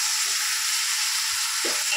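Mint, fenugreek leaves, green chilli and tomato fry in a pan, giving a steady, close sizzle with faint stirring scrapes underneath.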